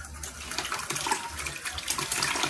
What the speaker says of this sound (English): So guys, I put some water in it.